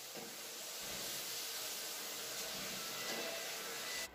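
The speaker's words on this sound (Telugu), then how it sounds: "ఇలా మనం వీటిని ఫ్రై చేసుకోవాలి బోత్ ద సైడ్స్" Sakinalu, the Telangana rice-flour snack, frying in hot oil, a steady soft sizzling hiss that holds evenly throughout, quiet and close with no voices.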